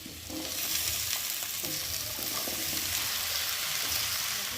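Malabar spinach stir-fried with spices and shrimp in a pan, a dense continuous sizzle with soft scraping of a stirring spatula, close and steady.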